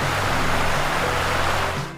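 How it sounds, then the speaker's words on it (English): Limestone Creek in Fayetteville, New York flows in a steady, broadband rush of water, with a low hum running underneath. "Water from Limestone Creek, powering the multitude of mills"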